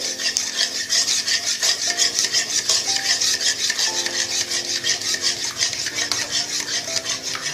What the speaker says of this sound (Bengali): ভালো করে নেড়ে নেবেন, তাহলেই ডিমটা কুচো কুচো মতো হয়ে যাবে